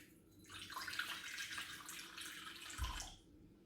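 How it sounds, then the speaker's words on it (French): A small amount of water is poured into a vessel while making choux pastry dough, a short, steady splashing trickle lasting about three seconds and heard alone. "Je vais commencer par mettre un petit peu d'eau."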